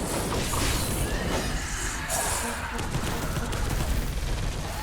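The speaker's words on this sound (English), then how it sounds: "they're shooting out there" Sustained gunfire from the Space Hulk Deathwing video game, dense rattling bursts running continuously without pause, loud and layered with mechanical clatter and distant booms.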